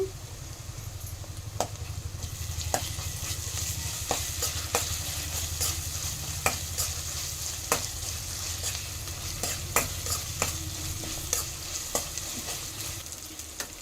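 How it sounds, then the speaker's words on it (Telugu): Ginger garlic paste fries with onions in a pan, a low steady sizzle broken by repeated sharp clicks and scrapes of a spoon stirring against the metal. "చూడండి ఈ విధంగా వేయించుకోవాలి శుంటి వెల్లుల్లి పేస్టు పచ్చివాసన పొయ్యని వరకు వేయించుకోవాలండి"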